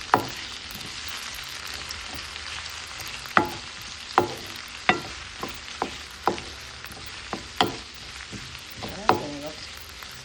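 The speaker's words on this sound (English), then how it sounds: "Saute this until it gets translucent" Onion, scallion, pepper and thyme sautéing in a pan, a steady close sizzle punctuated by repeated sharp clinks of a utensil stirring against the pan.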